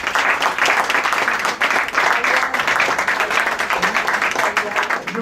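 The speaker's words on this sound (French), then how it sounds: "on peut l'applaudir aussi" Audience applause at a restaurant awards evening in Paris, dense continuous clapping from a crowd at close range, with a voice briefly audible over it.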